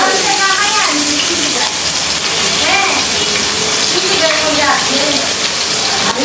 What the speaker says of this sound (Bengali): তো পেঁয়াজটা ভাজা ভাজা হতে থাকুক